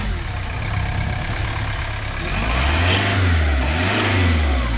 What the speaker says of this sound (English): Engine sounds alright.